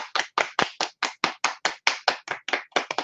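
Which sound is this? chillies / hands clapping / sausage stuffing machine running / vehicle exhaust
hands clapping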